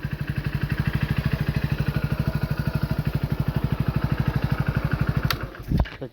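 A Hero motorcycle engine running at a steady, rapid thumping idle close by, pulsing evenly for several seconds before revving and pulling away near the end.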